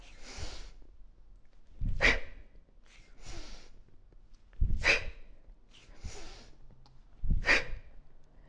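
Heavy, forceful breaths during a beginner kettlebell workout: three sharp exhalations spaced a few seconds apart, each preceded by a softer inhale, close and alone with no talk.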